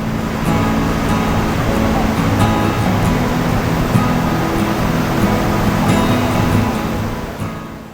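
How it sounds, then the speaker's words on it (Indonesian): A rushing river beside Dairyland Riverside Puncak roars in a dense, continuous wash of water noise, loud and close with no talking over it. "menikmati suasana dengan suara deruan sungainya itu yang bikin syahdu banget ya"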